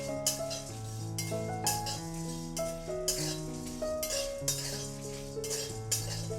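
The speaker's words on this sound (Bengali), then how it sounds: "এভাবে মশলাটাকে নেড়ে চেড়ে রোস্ট করে নিতে হবে।" Spice masala for street-style sandwich masala is stirred and dry-roasted in a pan: a spoon scrapes and clinks against the metal in a steady rhythm, with background music playing throughout.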